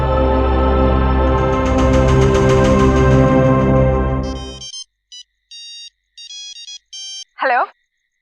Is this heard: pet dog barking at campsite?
no